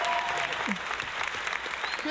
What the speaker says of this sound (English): He gets a little clap.